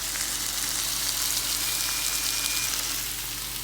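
Marinated steak sizzles steadily in a hot pan at medium heat, a dense, even hiss and crackle held close and unbroken, with no talking.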